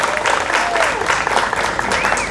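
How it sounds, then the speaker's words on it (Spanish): Audience at the official opening ceremony of Expo Yguazú 2022 in Paraguay applauding, a brief burst of crowd clapping with some voices mixed in. "Por favor, un fuerte aplauso."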